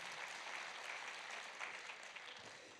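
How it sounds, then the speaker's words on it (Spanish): Church audience claps for the Lord during a sermon, a continuous even patter of many hands, moderately distant and fairly soft, without voices over it. "Ahora sí, le damos un aplauso al Señor"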